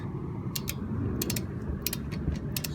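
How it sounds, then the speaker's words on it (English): Torque wrench set to 21 foot-pounds ratcheting a 10 mm rear brake bolt on a Chevy Volt, several close, crisp bursts of clicking in quick pairs over a low background hum. "start cranking that down till it clicks"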